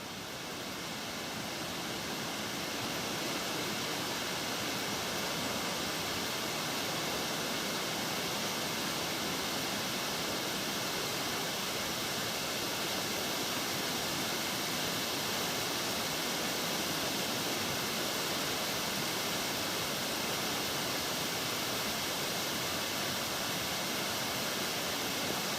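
Constant roaring rush of falling water, dense and unbroken like a powerful waterfall close by at Rainbow/Mulangong Falls, Macquarie Pass National Park, with no voices over it.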